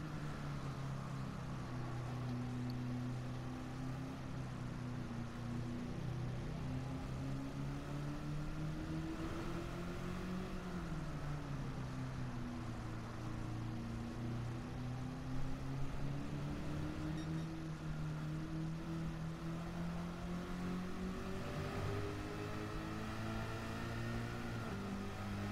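A Ford GT40 race car in Gran Turismo 7 lapping Spa, a continuous droning engine note that rises and falls steadily as the car drifts through corners, loud and close throughout with no talk.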